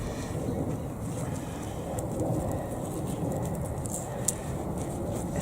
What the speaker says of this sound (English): it's just all about the birds today